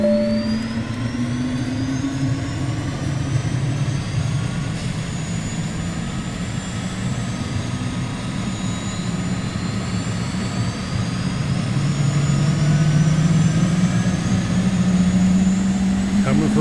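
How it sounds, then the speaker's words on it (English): A Cirrus Vision Jet engine spins up in Microsoft Flight Simulator, a steady loud whine and rumble with rising tones that build across the clip, with people talking over it. "Make sure fuel pump showing on, checked and verified, and start the engine."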